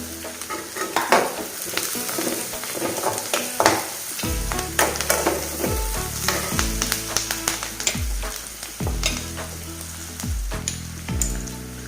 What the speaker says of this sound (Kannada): ಒಂದು 2 ನಿಮಿಷ ಚೆನ್ನಾಗಿದ್ದು ಫ್ರೈ ಆಗಲಿ.